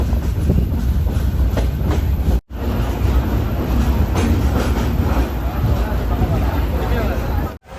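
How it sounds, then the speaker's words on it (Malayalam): Goa Express rolling into platform 1 at Madgaon Junction, a loud steady clatter of wagons and wheels with brief gaps, crowd babble and platform voices mixed underneath. "മഡ്ഗാവ് ജംഗ്ഷൻ റെയിൽവേ സ്റ്റേഷൻ്റെ 1-ാം നമ്പർ പ്ലാറ്റ്ഫോമിലേക്ക് ഇതാ ഗോവ എക്സ്പ്രസ്"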